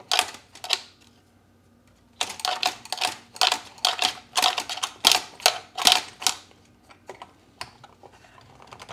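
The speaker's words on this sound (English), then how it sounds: "So now we just thread our new trimmer head back on." Plastic trimmer head being spun and threaded by hand onto the shaft of an Echo string trimmer, giving a rapid series of close, dry clicks and ratchety taps in irregular bursts with brief pauses between.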